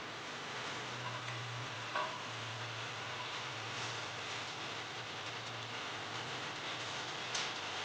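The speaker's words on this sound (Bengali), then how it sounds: "এইবার আমি এতে আগে ভেজে রাখা বেসন বড়াগুলো দিয়ে দেবো।" Gram flour fritters dropped into a simmering pan of mustard-style curry for a morola fish dish: a steady soft bubbling sizzle throughout, with a couple of faint clinks, no voices.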